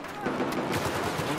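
Pistol gunfire in the video game Battlefield 4, on a Metro map in a pistols-and-knife match, heard as a brief burst of rapid game shots and crackling effects within noisy in-game action.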